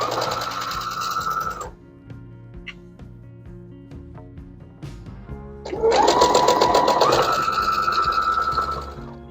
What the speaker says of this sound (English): we're just going to sew 1/4 inch away from the fold line all the way down